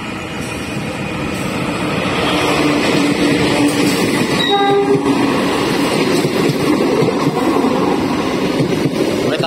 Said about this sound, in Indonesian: di belakang saya ada kereta api yang mau masuk stasiun Madiun nih kawan.